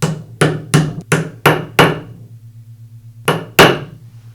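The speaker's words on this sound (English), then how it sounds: "tap it in place with a hammer" Sharp metallic hammer taps on a socket drive a bearing race into a Makita grinder, a quick series of six, pause, then two more, ringing over a low steady hum.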